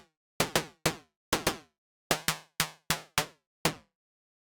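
Percussion patch on a Moog Mavis synthesizer with wide-ranging FM producing a noisy attack. About ten sharp, decaying noisy hits fall in an uneven rhythm, each bright and clicky with a short tonal body, alone and close.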